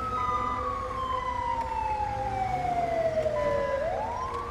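In GTA 5 modded as an Australian LSPDFR ambulance patrol, the vehicle's siren dominates up close: a long descending wail that bottoms out, then starts climbing again, with engine drone underneath.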